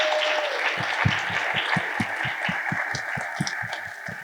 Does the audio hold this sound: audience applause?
yes